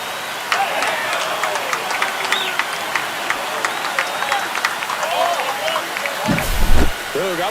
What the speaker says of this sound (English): This crowd is on fire right now. They're going nuts thanks to that home run.